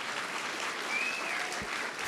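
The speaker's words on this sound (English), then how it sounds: "applaud that" Audience at a Trump political rally applauding, a steady wash of clapping and crowd noise lasting the whole stretch at even loudness.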